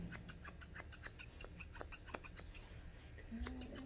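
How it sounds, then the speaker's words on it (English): Scissors snip a dog's coat during a teddy-bear trim, softening an edge with quick, steady, repeated close-up cuts that sound crisp but quiet. "I'm going to hold my scissors this way so I can soften that edge"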